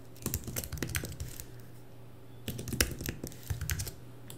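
Typing on a computer keyboard while adding text in Adobe Illustrator: quick, close clicking keystrokes in two bursts separated by a brief pause, fairly quiet and with no talk.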